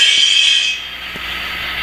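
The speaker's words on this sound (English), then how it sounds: "I'm going to release the handbrake on that Conrail hopper." A Conrail hopper car's handbrake is released on a railroad: a loud, steady high-pitched hiss for under a second, then a softer, duller rush with faint clicks, and no talk.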